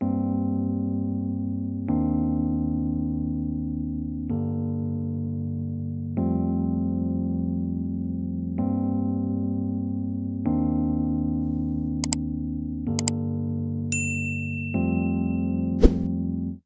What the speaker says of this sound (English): So I'm just gonna start by playing the chords. This is how they sound.